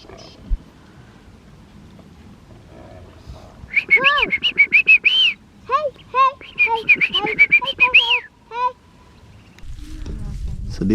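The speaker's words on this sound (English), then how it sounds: "You can hear the birds." Birds in the remote Australian outback beside a river give a burst of repeated, rising chirping calls for several seconds, fairly close and lively, after a quiet stretch, with wind rumble at the end.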